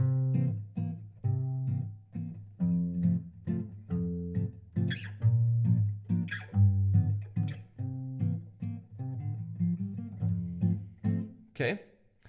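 Guitar playing a song passage from the start of the chorus at full speed, a steady run of plucked notes and chords with short gaps between phrases, moderately quiet and with no one talking.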